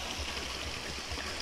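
River water at the Calabuso river flows in a steady, close rush with a faint low gurgle underneath, uninterrupted and without any talking.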